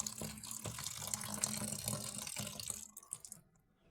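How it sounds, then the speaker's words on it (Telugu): Running water splashes over green chillies as they are rinsed in a kitchen, a soft continuous trickle that thins out into a few scattered drips near the end. "పచ్చిమిరపకాయలు మాకు కడగాలి ఫ్రెండ్స్ నీట్గా"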